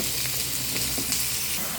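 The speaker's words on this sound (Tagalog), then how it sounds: "Niluluto na yung salmon pang prito." Salmon frying in a pan gives a dense, steady sizzle and crackle, close and continuous, with no one talking.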